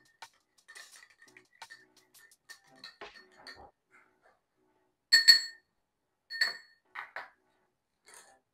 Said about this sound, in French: du cumin en poudre, on mélange le tout.